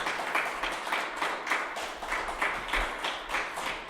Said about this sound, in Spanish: si le queréis dar un aplauso a ellos tres